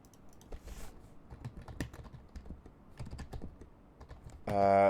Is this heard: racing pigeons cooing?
no